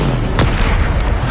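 Bombarda spell blast in the Hogwarts Legacy video game, one loud, deep booming explosion that rumbles on continuously through the short moment.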